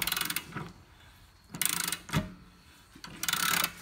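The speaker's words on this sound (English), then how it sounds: "Put a wrench on the inside, and then just crank away." Ratcheting metallic clicks in several short bursts as a wrench cranks a part loose on a Lexus IS 300 ABS unit, with pauses between pulls, fairly close and moderately quiet.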